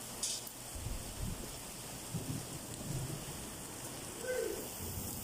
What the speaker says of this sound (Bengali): এত পরিমাণ শিল পড়ছে আর বৃষ্টি হচ্ছে।